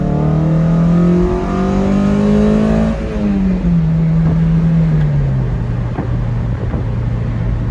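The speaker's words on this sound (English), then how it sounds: "I don't know how much my phone is capturing the wonders of the sounds of the intake and the engine behind me." A Toyota MR2 Spyder convertible's engine and intake at wide-open throttle in first gear, a loud close rising rev that drops with a shift and then climbs again, heard from inside the car.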